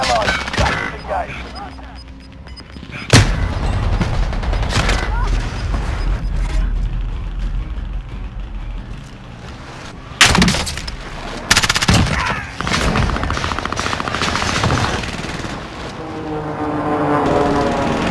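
Dense gunfire in Call of Duty: Warzone on Rebirth Island, with sharp bursts and loud shot-like impacts over continuous mechanical battle noise, carrying steadily throughout.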